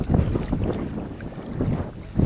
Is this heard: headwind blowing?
yes